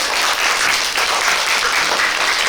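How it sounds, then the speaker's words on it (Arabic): A crowd on a children's treasure game show applauds for Rami, a loud, dense, continuous burst of many hands clapping that fills the whole stretch with no voices over it. "هي تصفيق على رامي."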